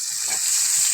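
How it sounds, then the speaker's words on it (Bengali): Pointed gourd and potato pieces frying in a pan give a brief, steady hiss of sizzling oil at close range, with no voices. "পটল আর আলু ভাজি করছি"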